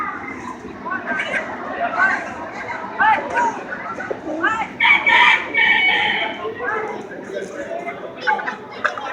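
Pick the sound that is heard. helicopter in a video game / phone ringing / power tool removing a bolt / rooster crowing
rooster crowing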